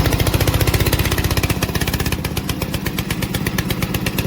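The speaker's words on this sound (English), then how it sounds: "Press this button to start the engine." A remote control lawn mower, model VTC550-90, runs its small engine with a fast, steady putter of regular firing pulses, loud and close throughout with no talk.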